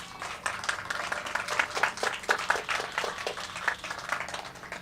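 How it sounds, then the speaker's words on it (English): An audience claps after a call to honor event organizers at a California Freethought Day gathering, a dense steady patter of many hands lasting several seconds at moderate level with a few louder swells. "Let's give them a round of applause."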